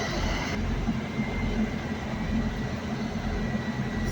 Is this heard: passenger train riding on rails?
yes